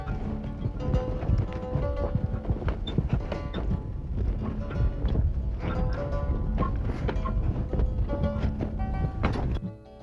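A team of horses walking while pulling a plow, with steady clip-clop hoof falls and clanking harness and implement noise, close and continuous throughout with little else heard.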